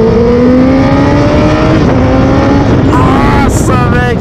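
A Honda CBR 1000 RR Fireblade SP superbike, 2019 model, revving hard on a test ride: a loud, close, sustained engine drone whose pitch climbs, then rises sharply again in quick surges near the end.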